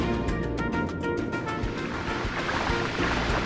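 Steady rushing water flows in the underwater realm of Atlantica in Kingdom Hearts, a continuous close wash of churning noise with no pauses or voices.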